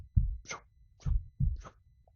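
Pulsatile tinnitus: three deep thumping beats, each followed by a brief whooshing pulse, in a slow heartbeat-like rhythm; faint and close with no talking.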